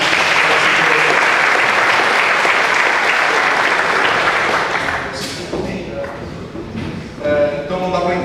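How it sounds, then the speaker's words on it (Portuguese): A room full of people applauding at a Portuguese-language gathering, with dense clapping that stays loud for about five seconds and then thins to scattered claps while voices begin talking. "Uma salva de palmas para os nossos."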